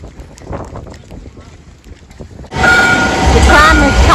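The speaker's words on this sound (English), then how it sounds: "The tram is coming." A tram pulls in at a stop in Sweden on a wet, rainy morning. Quiet street ambience gives way abruptly to a loud, close rumble of wheels and motor, with a faint squeal partway through.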